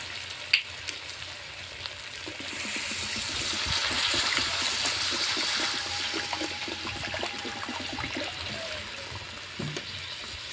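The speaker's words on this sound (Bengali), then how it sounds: "এবারে আমি দিয়ে দেবো জল।" Water poured into a pot of slow-browned mutton curry to make the gravy, a steady rushing splash with sizzling underneath, swelling in the middle and easing off, with a few clinks of the pot.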